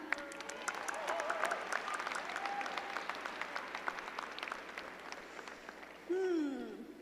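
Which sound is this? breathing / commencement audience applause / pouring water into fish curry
commencement audience applause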